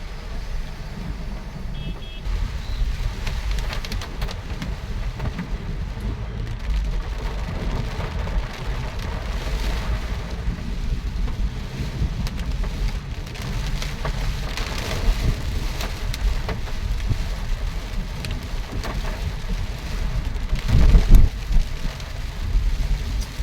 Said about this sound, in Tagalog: tuloy-tuloy pa yung ulan, hindi lang basta-basta ulan, kundi malakas pa na ulan